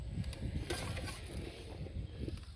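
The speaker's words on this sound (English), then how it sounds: "where you heard the steel just slide" Steel skid plate of a heavy RC crawler sliding and scraping over rock, a brief rough grinding rasp with small knocks, close and moderately loud, with no talking.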